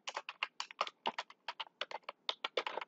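Rapid, irregular keystrokes on a computer keyboard, close and clear, with quick clusters of taps and short pauses between them, with no voice present.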